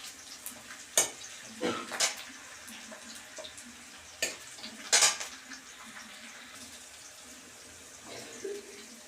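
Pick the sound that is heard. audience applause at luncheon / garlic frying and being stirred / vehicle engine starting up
garlic frying and being stirred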